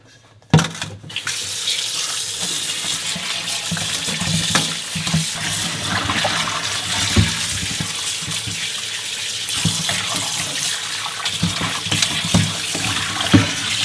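Cold tap water runs steadily over pork bones in a kitchen sink, a close, continuous splashing rush that starts abruptly after a brief quiet moment, with occasional knocks as the bones are handled.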